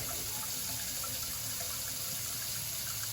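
Running tap water pours steadily into a kitchen sink while dishes are rinsed, a close, constant gushing hiss with faint clinks and no speech.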